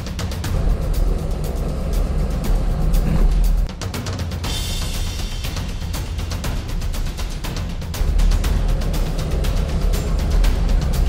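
Jeep Rubicon crawling up boulders off-road, a low steady engine rumble with clattering rock and drivetrain noise and a brief lull midway, close and continuous without talk.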